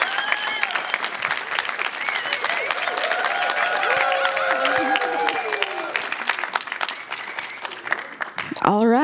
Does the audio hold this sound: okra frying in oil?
no